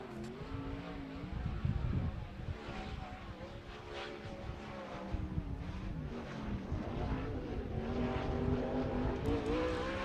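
A sprint car runs a qualifying lap at Wayne County Speedway, its engine note rising and falling as it circles the dirt oval, heard at a moderate distance under steady crowd and track ambience.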